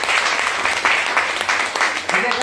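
An audience at a company plan presentation claps loudly and continuously for a couple of seconds, with dense overlapping hand claps and voices mixed in.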